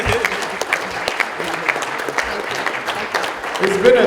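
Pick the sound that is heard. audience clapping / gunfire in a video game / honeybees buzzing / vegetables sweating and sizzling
audience clapping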